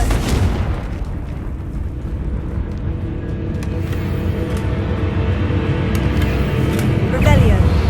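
Confringo fire spell explosions in the Hogwarts Legacy video game produce a continuous, heavy rumbling blast with crackling bursts, sustained and loud throughout, while a voice speaks over it.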